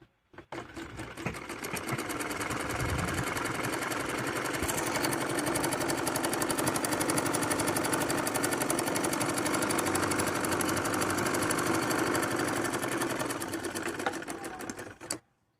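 Sewing machine stitching the folded bottom hem of a palazzo, a steady loud mechanical whir running continuously for about fifteen seconds with no talk.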